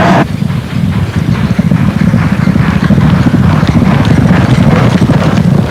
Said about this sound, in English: Jean Lesbourg trains Urban Sea, seen here cantering on a sand track.